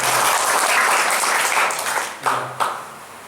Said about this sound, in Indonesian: Tepuk tangan untuk Bapak ini.